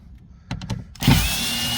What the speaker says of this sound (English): We're gonna take the 4 screws out, obviously.